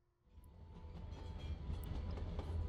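A train in the Life is Strange video game rolls along railroad tracks, a low rumbling clatter that swells from near silence and keeps building, faint and steady throughout.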